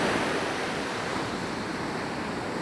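Ocean waves break on a steep beach shelf at Big Lagoon in a continuous, loud wash of surf, with steady hissing rush and no pause throughout.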